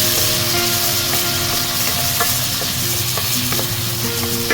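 Garlic frying in a pan, a loud, steady, close sizzle with occasional light ticks and pops layered over a faint tonal hum.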